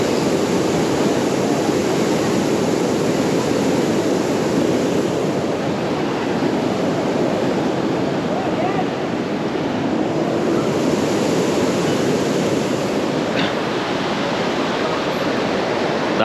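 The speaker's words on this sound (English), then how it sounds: "You have the water pumped from the river directly coming over here." River water pumped into a pumping station at Ram Ki Paidi, Ayodhya, gushes with strong force, a loud, steady, broadband roar that continues unbroken and close throughout, with no voices.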